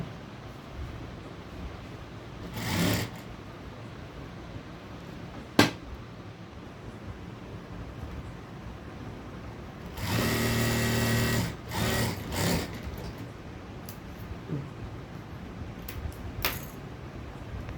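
A sewing machine stitches a blouse in a few short, steady runs, one lasting about two seconds, separated by quiet pauses with occasional clicks and handling noises.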